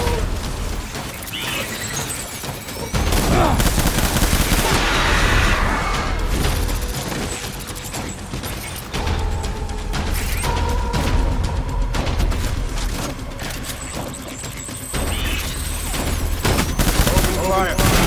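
Gunfire in Death Stranding: loud, sustained volleys of rapid shots and crashing impacts, in rolling bursts over a steady battle din, with voices mixed into the chaos.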